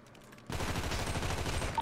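Rapid gunfire during a drive-by in an online multiplayer game: after a brief quiet lead-in, a dense, loud burst of shots rattles continuously to the end.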